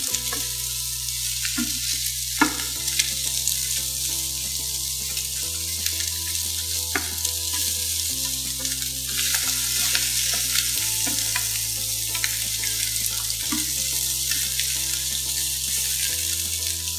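Sausages sear in a hot pan with a loud, steady sizzle and frying crackle that lasts throughout, over a quiet music bed, with no speech.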